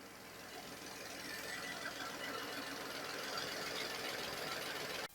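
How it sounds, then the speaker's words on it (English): Car engine running at a steady idle, a continuous broadband rumble heard close, with no talk over it. "The engine is running"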